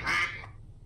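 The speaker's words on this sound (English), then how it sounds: "Got jump scared by a duck." A single short duck quack sounds from a horror video game, a loud nasal burst that cuts off quickly over a low rumble.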